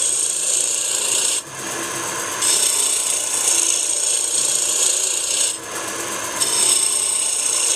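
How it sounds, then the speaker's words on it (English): Roughing gouge cutting wood on a lathe while turning a Christmas tree ornament, a loud close rasping scrape that comes in bursts with brief pauses as the tool meets and leaves the spinning wood, no talking. "It's just a roughing gouge."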